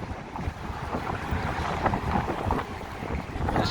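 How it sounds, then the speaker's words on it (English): Strong wind in downtown Chicago buffets the microphone in loud, continuous gusty rumbles, roaring steadily throughout with no speech. "Very, very windy, ladies and gentlemen."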